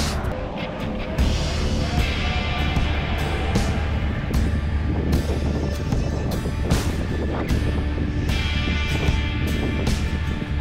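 Gusty wind buffets a microphone while riding a bike path over Vail Pass, with low rumbling bursts and a constant engine-like drone underneath, loud and close.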